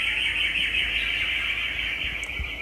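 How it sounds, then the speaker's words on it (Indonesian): A bird chirps continuously in a high, thin, shrill trill that holds steady at moderate loudness, with faint low rumbling behind it and no voices. "suara burung"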